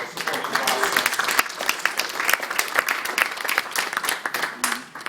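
An audience applauds panel experts at an evening discussion session, steady dense clapping filling the room for about five seconds with faint voices mixed in.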